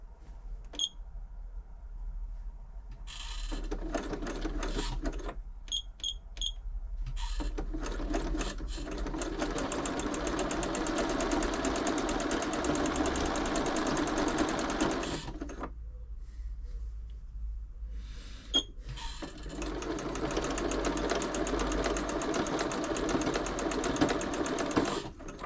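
A Janome Memorycraft 3000 sewing machine running with a strange noise, close by, in several long stitching bursts separated by short pauses and a few faint beeps.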